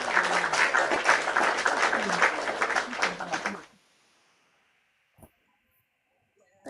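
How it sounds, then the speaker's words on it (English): Hand clapping during a live TikTok talk show, a dense burst of steady applause-like claps lasting a few seconds and then stopping abruptly, followed by near silence with a couple of faint knocks. "I had to put the clap in"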